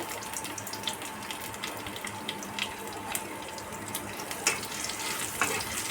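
Garlic and radhuni seeds, added to oil where dried red chillies are already frying, crackle and sizzle in a steady, busy hiss with scattered sharper pops, close and without talk.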